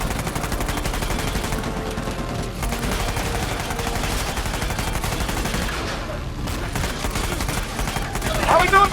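Sustained rapid gunfire during a vehicle chase in the Uncharted video game, loud and nearly unbroken bursts layered over engine roar, with voices faintly mixed in.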